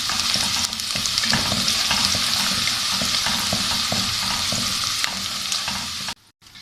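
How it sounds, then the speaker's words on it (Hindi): Onions fry in a pan until light golden for a chicken and vegetable biryani: a dense, steady sizzle with occasional stirring scrapes, close and loud, with no talking, cutting off abruptly at the end. "प्याज को हल्का गोल्डन कर लेते हैं"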